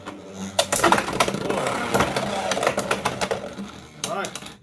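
Beyblade X tops Talon Ptera and Steel Samurai launched into a stadium, whirring and clattering as they collide repeatedly, with sharp metallic hits over a continuous spinning rattle and voices talking throughout.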